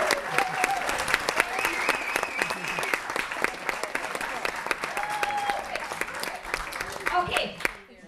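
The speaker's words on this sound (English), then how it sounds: "give an extra special little round of applause to Fred Hasley." An audience at a dinner bursts into sustained, lively clapping of many hands that carries on for several seconds before tapering off near the end.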